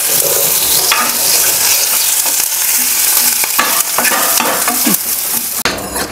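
Vadagam, crushed skin-on garlic and curry leaves sizzle and crackle steadily in hot oil as a Tamil rasam tempering, with loud continuous frying and a few sharp spatters and stirring scrapes close by.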